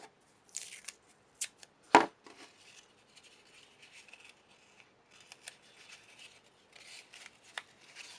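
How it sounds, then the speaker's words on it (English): Short crackling rips and rubs of sticky tape pressed onto a cardboard cube, the sounds coming in scattered quiet bursts with one sharp louder tear near the start, close up and without talk. "So I will turn this over and tape here and here."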